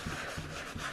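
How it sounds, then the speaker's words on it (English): A wet Cricut cutting mat is scrubbed in circles, giving a continuous close rubbing and scrubbing texture with a soft repeating swish on each stroke at steady moderate loudness. "you're just gonna keep scrubbing until it gets it nice and clean"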